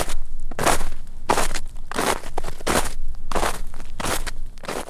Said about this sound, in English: Now it's a cleaner recording of just boots on snow.